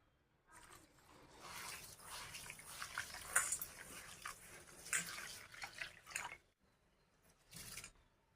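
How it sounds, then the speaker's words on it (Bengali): Soaked rice for patishapta pitha is swished and rinsed in water, with soft splashing and pouring in irregular bursts, fairly quiet and close, with brief gaps of near silence. "চালটা আমি এখন জল দিয়ে ভালো করে ধুয়ে নেবো 2-3 বার"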